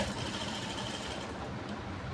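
A sewing machine stitching blouse fabric, making a quiet, steady mechanical whir with a rapid needle rattle. It runs continuously with no talk.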